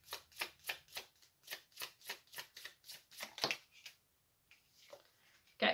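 Tarot cards are riffled and shuffled close by in a quick, regular series of crisp bursts, about a dozen in a row, then a brief pause and a final slap of the deck, with no talk.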